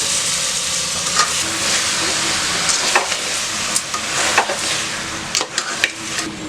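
Cleaned goat head meat fries in a pan in a village kitchen, a loud, continuous hiss of sizzling broken by repeated scraping stirs and clinks, close up and without speech.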